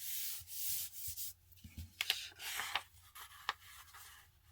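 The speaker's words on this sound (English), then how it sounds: "let's flatten this paper down and then fold it in half" A sheet of letter-size paper is flattened and folded in half, with soft crisp rubbing and creasing strokes in short bursts, close and quiet.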